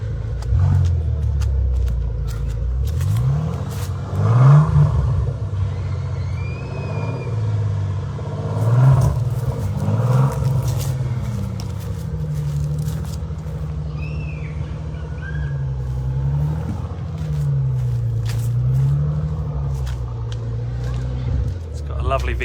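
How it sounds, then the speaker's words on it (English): A 2008 Bentley Continental GT Speed's V12 exhaust gives a deep, rumbling burble that swells in several revs and settles back to idle, heard close from behind the car with faint voices in the background. "It's got a lovely V12 burble to it."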